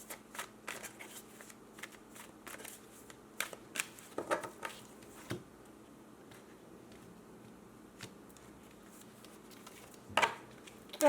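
Tarot cards being shuffled close by: quiet, irregular riffles and soft slaps of card stock, with brief flutters and a louder burst near the end, no talk.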